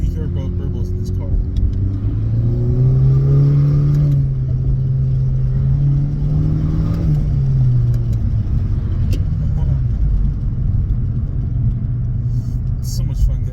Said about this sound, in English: I can definitely hear burbles in this car.